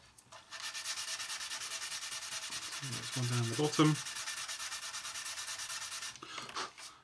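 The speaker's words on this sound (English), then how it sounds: "We can just sand them in, blend them in nicely." Sanding stick rubbed back and forth over the plastic of a 1/48 Trumpeter Su-24 Fencer scale model kit, a soft rapid scratchy rasp held close throughout, with a brief spoken remark in the middle.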